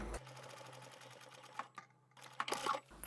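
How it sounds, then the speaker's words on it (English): A sewing machine back stitches and then runs along a small fabric tab on a keychain card wallet, giving a quick, close, rapid mechanical chatter with a brief pause partway through before it resumes. "So I'll just start at the top, back stitch and go right to the end."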